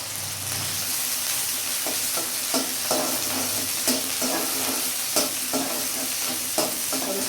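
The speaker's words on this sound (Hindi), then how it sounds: "तेल भी मेरा गर्म हो चुका है। तो सबसे पहले हम प्याज को इसमें डाल लेंगे ऐसे।" Chopped onions fry in hot oil for a raw papaya sabzi, a steady close sizzle broken by regular stirring scrapes about every half second.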